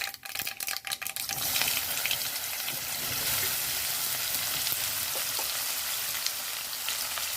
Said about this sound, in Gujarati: હવે જે આ કંટોલા કટિંગ કરેલ છે તે નાખીશું